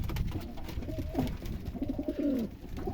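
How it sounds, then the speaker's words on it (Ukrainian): Soft, low coos from Mondain pigeons, two males and a hen, repeat in a short rolling series, close and fairly quiet, with no voices. "Ось такі мундени будуть. Є два самці і голубка."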